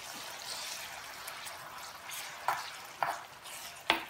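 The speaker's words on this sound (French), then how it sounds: "Maintenant, je mélange avec la cuillère" Onions frying in a pan hiss and sizzle softly as a spoon stirs them, with three sharp clinks of the spoon against the pan near the end.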